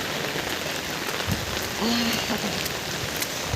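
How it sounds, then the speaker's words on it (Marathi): Heavy early-morning rain falls steadily on a walk to work under an umbrella, a dense continuous hiss with scattered drop taps throughout, and a brief faint tonal sound midway. "पाऊस येत आहे दाखवते तुम्हाला किती पाऊस चालला आहे सकाळी सकाळी बघा"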